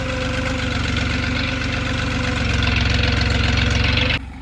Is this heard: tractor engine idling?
yes